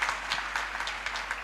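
A brief burst of audience applause, dense and even, with a steady low hum underneath.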